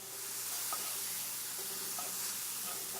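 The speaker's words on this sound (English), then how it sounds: "I've been frying this for a couple minutes." A soft, continuous sizzle of vegetables sauteing in a pan without added fat, with a little liquid, quiet and steady with faint crackles throughout.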